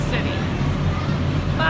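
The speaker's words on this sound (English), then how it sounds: "So we're on the tender boat and it just got loud." A loud, steady engine roar fills the cabin of a tender boat ferrying passengers from a cruise ship to Monaco, with a hubbub of voices blended into the noise.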